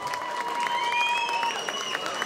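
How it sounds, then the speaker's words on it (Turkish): A wedding crowd claps steadily, a dense patter of applause with high, thin tones ringing through it. "Evet bir alkış alalım."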